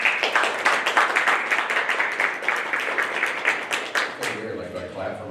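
Audience applause at a National Library Week author event on a community college campus, a steady wash of many hands clapping that carries on for several seconds before thinning out, with a voice coming in near the end.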